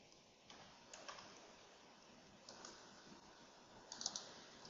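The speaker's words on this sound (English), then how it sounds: "And here you can simply write Ross has to pay" Code being typed on a computer keyboard, quiet scattered key clicks and taps at close range, with a brief cluster of clicks near the end.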